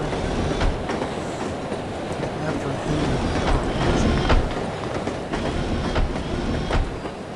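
A moving train in the video game No One Lives Forever rumbles steadily with rhythmic clickety-clack of wheels on track, a dense continuous roar throughout.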